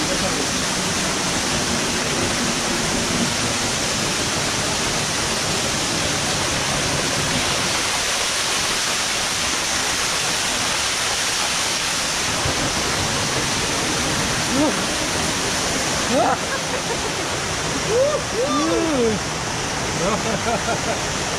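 An unnamed waterfall in Jari near Kasol, Himachal, roars as a loud, unbroken wash of falling water, with brief voices surfacing near the end.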